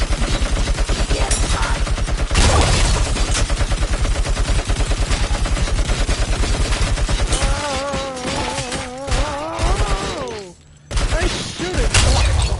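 Sustained rapid automatic gunfire in the video game RoboCop: Rogue City, a loud continuous stream of shots with heavier bangs. It thins out near the end, when a warbling electronic tone and other game sounds come through.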